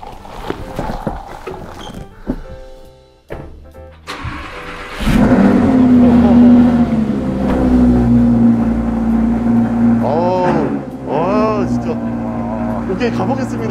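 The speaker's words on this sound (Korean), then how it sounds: "배기음 소리 들어봐야 될 거 아니에요?" A car engine starts up and settles into a loud, steady exhaust drone with a couple of throttle blips, close by, after earlier movement and handling noises.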